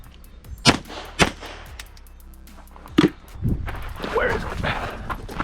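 A SIG 5.56 rifle fires at a match range: three sharp reports spaced unevenly, followed by a jumble of clatter and movement noise, with voices faintly in the background.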